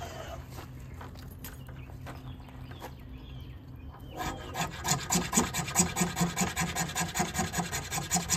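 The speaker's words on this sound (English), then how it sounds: "Let's scrape some fatwood." A cheap bait knife scrapes fatwood, first with faint scratches and then with loud, rapid, rhythmic rasping strokes close to the listener.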